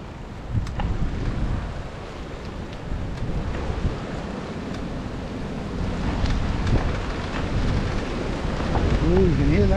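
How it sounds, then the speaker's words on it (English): Strong wind buffets the microphone in continuous rough gusts during a recumbent trike ride along the Exe Estuary in February, with occasional faint voice fragments mixed in. "Ooh, you can hear that wind."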